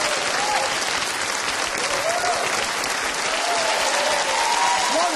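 Studio audience on a dating game show claps loudly and continuously, a dense wash of applause with some cheering voices mixed in throughout.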